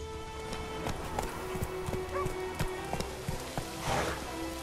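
Geralt's horse Roach galloping in The Witcher 3: Wild Hunt, steady rhythmic hoofbeats clip-clopping close by over ambient game sound, with no speech.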